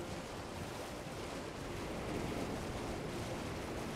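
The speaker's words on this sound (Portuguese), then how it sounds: "Nessa parte da cachoeira aqui." A waterfall in the Elden Ring video game gives off a steady, even broadband rush of falling water at moderate loudness, with no other sound over it.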